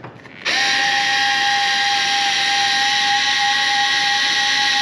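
A power drill spins steadily while tightening nuts during installation of a CTS-V conversion kit on a Cadillac CTS-V Sport, a loud sustained whine that starts abruptly after a short quiet moment and holds evenly.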